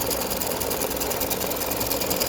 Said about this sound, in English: this one stitching right now is the gift tag I just showed you stitching out